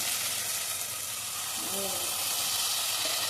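Steady sizzling and hissing from a hot pan as ground masala is fried with softened tomatoes, continuous broadband frying noise with a brief faint tonal sound partway through.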